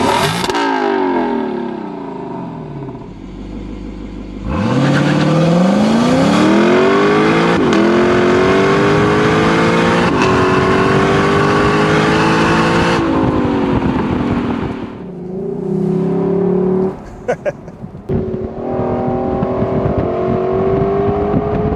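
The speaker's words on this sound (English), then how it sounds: "the power is generous coming out of that 5-liter V8. And the sound is incredible." A Lexus LC500 Convertible's 5-liter V8 revs up loudly and close, climbing through several rising surges with a brief drop and blip before settling into a steady throaty drone, with no talking.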